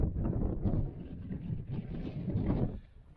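Wind buffets the microphone on an open fell hike, a steady low rumbling roar that swells and eases throughout.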